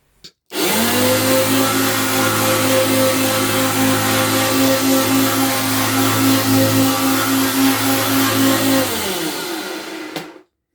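A restored Hoover Turbopower Junior U1426 upright vacuum cleaner switches on, runs with a loud steady whine and drone for about nine seconds, then winds down and stops.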